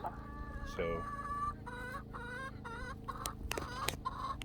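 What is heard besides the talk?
chickens clucking, roosters and hens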